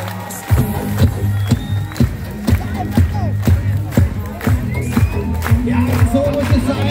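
Spectators at a UCI mountain bike World Cup race in Aalen clap together in a steady rhythmic beat, with crowd noise and cheering around them while an announcer speaks over the public address.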